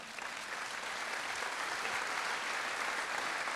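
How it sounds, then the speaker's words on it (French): A crowd at a business awards ceremony in Saône-et-Loire gives steady, even applause, a dense wash of clapping that sounds somewhat distant and holds level throughout. "On peut l'applaudir très fort."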